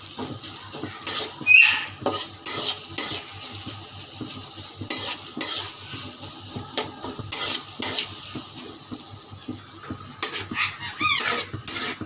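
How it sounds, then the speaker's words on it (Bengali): Onions fry in mustard oil in a home kitchen pan, a close crackling sizzle broken by repeated scraping stirs in an uneven rhythm, with no talking. "তার আগে কিছুটা পেঁয়াজ এই তেলে আমি ভেজে তুলে নেবো।"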